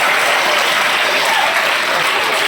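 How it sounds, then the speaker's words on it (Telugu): Applause for a student at a school investiture ceremony, a loud, dense burst of many children's hands clapping together, steady and close, with no talk over it. "claps for him"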